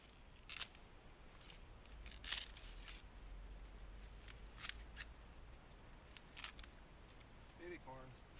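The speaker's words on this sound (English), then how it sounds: "I'm gonna for sure cut the stalks down right now so they don't tear the crap out of my little lattice" Plant stalks cut down in a hugelkultur garden bed with shears, several separate sharp snips spaced a second or two apart over faint outdoor background, with a brief voice near the end.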